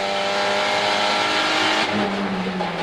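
Supercar Challenge race cars at the Zolder circuit howl loudly through a corner, engines sustained at high revs with a shift in pitch midway as they accelerate out, no voices present.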